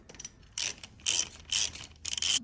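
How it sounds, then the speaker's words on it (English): A ratchet wrench clicks in four quick bursts of rapid pawl ticking, close and loud, while removing the kingpin nuts from a front axle steering knuckle. "So what we're doing now is just taking the nuts off the kingpin before we can get any further"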